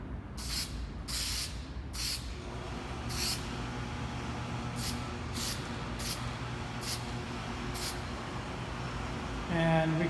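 Short bursts of spray paint from an aerosol can coat a pinewood derby car, several quick hissing passes spaced a second or two apart over steady background noise, fairly close.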